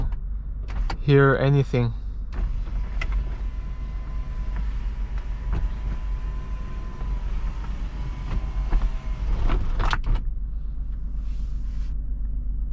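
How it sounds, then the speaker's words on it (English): Electric fabric roof of a Smart Fortwo convertible closing while driving, a steady motorized whine lasting about eight seconds over constant road and engine rumble, ending in a louder clunk; someone speaks briefly at the start. "And we are closing the convertible"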